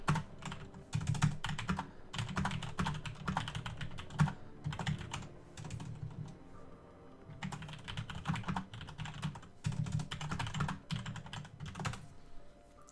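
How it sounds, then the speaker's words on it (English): Rapid typing on a computer keyboard, steady bursts of clattering keystrokes with brief pauses, close and moderately loud, no talking. "Maybe typing it out would be easier."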